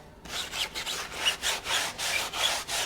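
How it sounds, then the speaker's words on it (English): A lug brush scrubs a car's tires and brake caliper during a Tesla wash, making rhythmic back-and-forth scratchy strokes about twice a second, close and moderately loud, with no voices. "I will take my lug brush and get back on the caliper."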